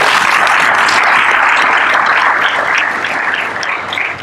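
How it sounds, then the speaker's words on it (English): A conference audience gives the local committee sustained applause, loud and close, a thick steady patter of many hands that eases slightly near the end. "I think we should clap for them."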